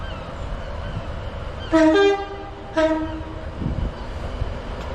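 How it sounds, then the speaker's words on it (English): Avanti train horn sounding at Preston station on a wet day: two distinct loud multi-tone blasts, the first longer, over a steady background rumble of the platform, with no talk. "Nice tone from the Avanti."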